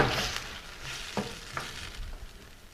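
White wine poured into a hot pan for an aqua pazza of poached snapper, giving a steady moderate sizzle with a few stirring scrapes and soft crackles, close by, with no voices.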